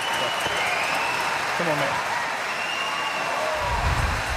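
A curling arena crowd applauds a triple takeout at a men's final, steady sustained clapping and cheering throughout, with a voice briefly speaking over it.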